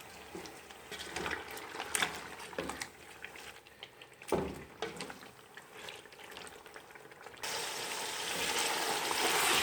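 Beef nihari masala fries in a pot before water is added for the pressure cooker, giving a steady, moderate sizzle with occasional scraping stir sounds. A louder, hissier wash of frying noise takes over near the end.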